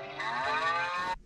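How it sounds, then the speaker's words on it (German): One long, loud cow moo, close and clear, held steadily for about a second before cutting off; no one speaks. "Nein, die Kuh macht Mu."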